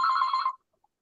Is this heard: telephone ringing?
yes